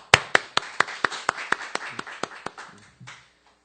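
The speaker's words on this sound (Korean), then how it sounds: "박수!" Scattered audience applause during a church sermon, about a dozen distinct sharp claps in a steady rhythm, close and fairly loud, thinning out and ending after about three seconds with no talk.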